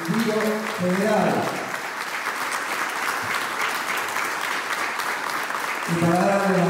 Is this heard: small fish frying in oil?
no